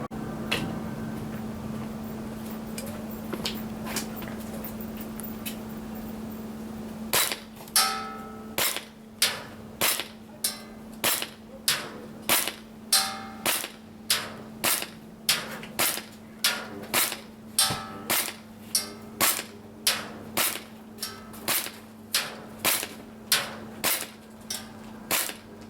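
Cybergun CANiK TP9 airsoft pistol fired repeatedly at a target, about twenty sharp snapping shots at a steady, evenly spaced rhythm, close and loud, following a stretch of low humming background.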